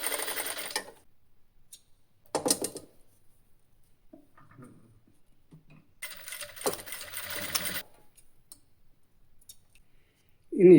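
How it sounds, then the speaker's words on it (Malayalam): Sewing machine stitching a thick leather belt, in short bursts of rapid clicking separated by quiet pauses, with a longer run near the end, close and fairly loud. "ഒന്നുകൂടെ സ്റ്റിച്ച്."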